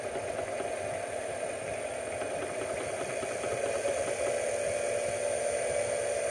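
A high speed induction motor runs steadily nearby, a constant even whir with a faint mechanical rattle and no change in pace.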